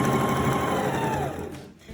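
A sewing machine runs a straight stitch along a ribbon skirt in a fast, steady whir close by, then slows and stops near the end.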